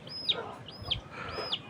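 Chicks in a poultry house clucking and peeping, three short high-pitched calls spaced evenly over under two seconds, close and fairly faint, with no talk over them.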